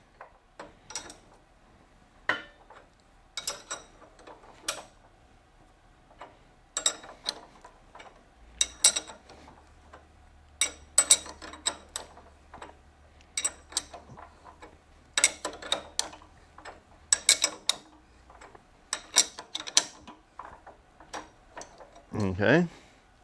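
Two wrenches drawing a nut tight on a brake strut assembly, heard as a long run of close, sharp metallic clicks and ratcheting ticks in uneven bursts, with a low hum in the middle and a brief voice near the end.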